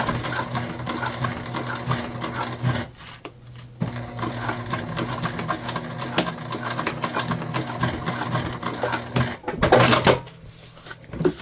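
A sewing machine stitches through chunky webbing on a pouch, a steady close mechanical whir with a brief pause and a louder burst near the end, no talking.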